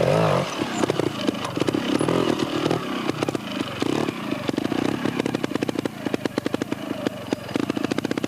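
A 1995 Eurotech Beta trials motorcycle ridden by Martin Richards through a section at Hawkstone Park, its single engine popping and revving in uneven bursts up close, with a commentator talking over it.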